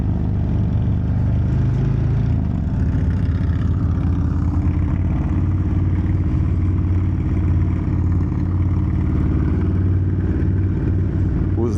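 A Harley-Davidson Dyna motorcycle with a Legends exhaust idles with a deep, steady, loping rumble, loud and close, holding evenly with a slight shift early on.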